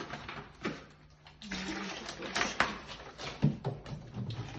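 Water splashes and trickles unevenly into a bucket close by for mixing plaster, with a few clunks and a brief low hum in between.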